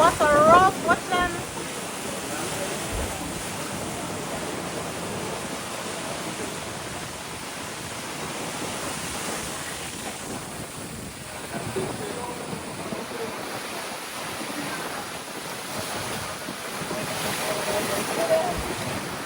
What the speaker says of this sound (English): look at the water rough